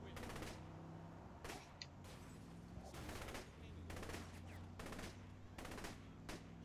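Gunfire in the video game Saints Row: The Third, quick bursts of shots at irregular intervals, fairly faint, over a steady game background hum.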